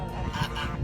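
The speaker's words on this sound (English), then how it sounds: "The geese are hanging out in their new favourite spot." Geese honk nearby on a farm on a dry spring day, giving a short burst of raspy, overlapping honks.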